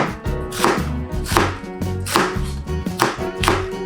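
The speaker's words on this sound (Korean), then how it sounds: "양배추는 심지를 제거하고 양파와 마찬가지로 두껍게 썰어주세요." A knife cuts cored cabbage into thick slices on a cutting board. About seven crisp, evenly spaced chops ring out close and clear, with no voices.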